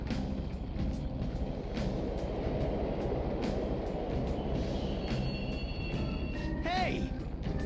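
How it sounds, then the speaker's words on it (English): Subway trains running in the Persona 5 video game, a steady rumbling roar with rhythmic clatter of wheels on track and a brief squealing whine near the end, loud and continuous. "The trains are totally running."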